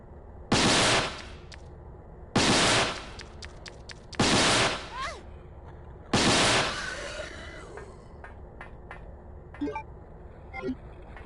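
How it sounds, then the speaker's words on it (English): Spark shot weapon firing in Resident Evil 2 (original version): four loud, sharp crackling bursts at roughly two-second intervals, each trailed by fainter electrical zaps and debris rattles. "we're going to use the spark shot to do some damage to these guys. Couple shots."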